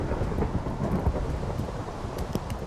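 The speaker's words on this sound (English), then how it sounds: "It's a thunderstorm!" Rumbling thunder rolls through a thunderstorm in a TerraFirmaCraft Minecraft world, a steady, loud wash of rain and low crackling booms filling the whole stretch with no talking.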